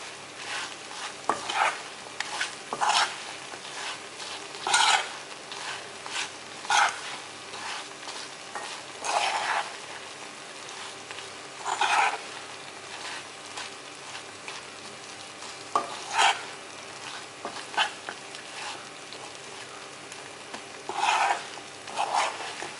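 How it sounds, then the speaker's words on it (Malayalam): Beef pickle being stirred in a pan with fenugreek powder after the flame is turned off, a steady faint sizzle broken by repeated scraping and clattering strokes of a spoon at irregular intervals, close and without talk. "നമുക്ക് നന്നായിട്ട് ഇളക്കാം."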